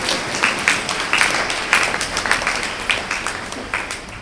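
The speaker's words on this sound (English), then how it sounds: "clap for Louise. Clap for Louise" An audience at a church teaching session claps in a lively, uneven patter, individual hand claps distinct and close, lasting the whole short stretch with no talk over it.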